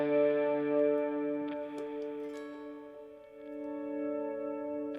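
Electric guitar played through a Line 6 Helix swell patch with overdrive, delays and reverb, sustained tones swelling in and ringing out smoothly, clear and alone without talk.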